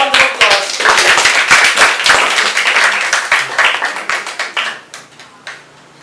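An audience applauds at a school classroom debate, loud, dense clapping that holds steady for several seconds, then tapers off into a few scattered claps, with faint voices underneath.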